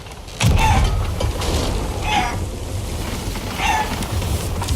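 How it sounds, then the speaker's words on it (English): Wooden ship boards creak and groan at intervals in Sea of Thieves, over a steady low rumble of wind and water, fairly close, with no voices. "You hear those boards creaking?"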